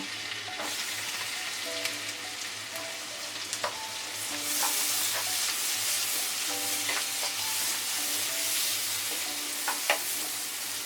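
Onions frying lightly in melted butter, a soft continuous sizzle that swells partway through, with scattered clicks and scrapes of a spatula stirring them in the pan.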